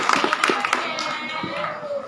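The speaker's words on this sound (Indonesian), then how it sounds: "Tepuk tangan untuk Syarifuddin Hidayatullah." A short burst of audience clapping at a Maulid Nabi gathering in an Islamic boarding school, quick hand claps from a small crowd with voices mixed in.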